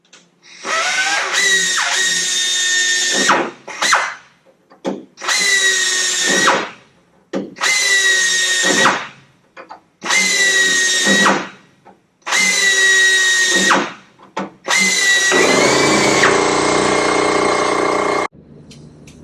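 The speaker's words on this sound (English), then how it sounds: "Okay, I drilled up all my holes." A power drill bores holes in aircraft metal during repair of a wind-damaged wing and flap, running in six loud, close bursts of a few seconds each with short pauses between, the last one longer.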